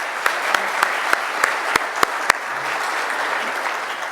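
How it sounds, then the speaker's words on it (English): An audience at a hearing-loss research symposium gives a full round of applause for a panel of four, a steady wash of clapping with a few sharp taps standing out. "please, a big applause for the 4 of them"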